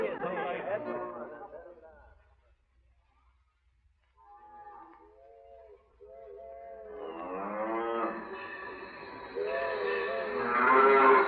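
Cattle moo repeatedly while a herd blocks a railway line on the frontier, the long lowing calls building into an overlapping chorus and mixing with voices talking over them.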